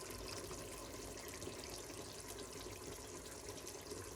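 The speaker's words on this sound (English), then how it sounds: "So just drain out the water like this." Steady rushing and splashing of water drained off cooked rice, continuous and fairly close, with no talking.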